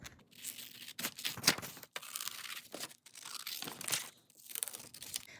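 Scissors cut a paper journal pocket out of patterned Temu craft paper, giving close, irregular crinkly snips and rustles with short pauses between cuts.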